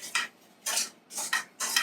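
Dishes and cutlery are handled while being washed in a kitchen, with four short clattering bursts of metal and crockery clinking together, separated by brief quiet gaps and no voices.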